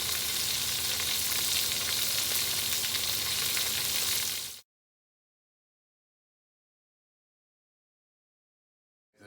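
Shark bites sizzle and fry in shallow oil in a pan, a steady loud crackling hiss that stops abruptly partway through, leaving silence.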